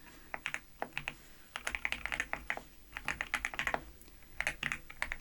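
Soft-spoken Python lesson with keys clattering on a computer keyboard in steady bursts of close, crisp clicks and short pauses between words, nothing else heard.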